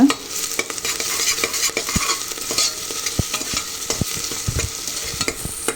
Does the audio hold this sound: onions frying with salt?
yes